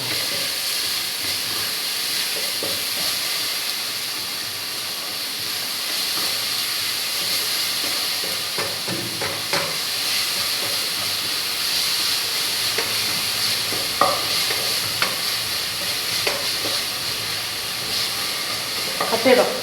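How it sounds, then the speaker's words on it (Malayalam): Onion and garlic sauté in a pan for soup, producing a steady close sizzle and hiss with occasional stirring clatters, with no talk. "ആ വെളുത്തുള്ളി ഉള്ളിയും കൂടി നന്നായി വാടി വരുന്നതാണ്"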